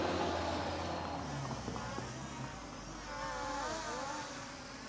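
A small K15 Max toy drone bought from TEMU spins up its motors and lifts off, a steady buzzing whine with rising and wavering pitch, close by and fairly loud, with no speech over it.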